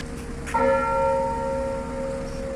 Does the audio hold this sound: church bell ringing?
yes